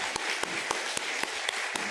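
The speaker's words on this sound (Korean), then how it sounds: "하나님께 영광의 박수를 드리겠습니다." A church congregation claps together in praise, with sharp, evenly spaced rhythmic beats, about four per second, over a bed of scattered hand claps.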